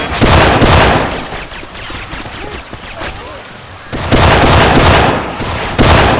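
Weapon fire from Left 4 Dead 2 with Syphon Filter mod sound effects, loud bursts opening and closing the stretch with a quieter, busier middle and faint voices underneath.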